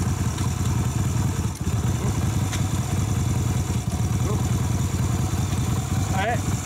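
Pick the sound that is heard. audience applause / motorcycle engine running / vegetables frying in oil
motorcycle engine running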